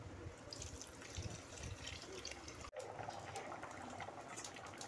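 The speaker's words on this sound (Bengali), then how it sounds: "আর একটু জল দিয়ে দেব।" Water pours steadily into a pan of Bengali singhi fish curry with potatoes and spices, a faint continuous splashing trickle with a brief break, no talk.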